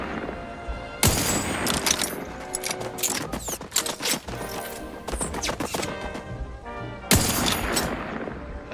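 Video game gunfire crackles in rapid, dense bursts, loud bangs and rattling volleys overlapping almost continuously with a few heavier blasts standing out.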